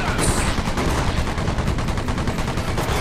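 Rapid machine gun fire in the Earth Defense Force: Insect Armageddon video game comes as a loud, continuous stream of shots that rattles evenly throughout.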